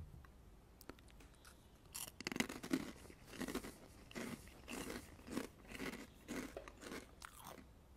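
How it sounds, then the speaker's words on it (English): Close, crisp crunching of a cream and onion flavored snack, with a few early bites followed by a steady run of rhythmic chewing crunches, quiet and with no talking. "It's really flavorful and very crunchy."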